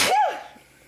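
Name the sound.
sneeze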